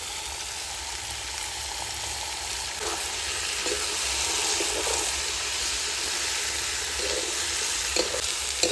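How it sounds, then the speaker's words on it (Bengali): Chicken sautéing in a pot with turmeric and salt, a dense continuous sizzle and hiss with faint occasional stirring knocks, close and steady throughout. "এবার মাংসটা একটু ভালো করে কষিয়ে নেব"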